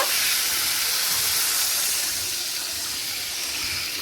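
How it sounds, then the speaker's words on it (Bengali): Water poured into fried spice paste in a cooking pan for a plantain curry, a loud steady hiss and sizzle that eases slightly as the pour settles, with no talk. "এবার আমি জল দিয়ে দিব"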